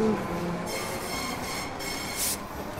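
A train rumbles past in the Call of Duty Modern Warfare game, a steady broadband roar with rail noise and a brief squeal near the end, close and continuous.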